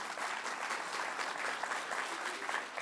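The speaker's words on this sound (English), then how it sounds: "let's give another round of applause to the Quabba Jukians" A festival-of-ideas audience applauds in a dense, continuous wash of clapping, steady and even in level, heard from some distance with no breaks.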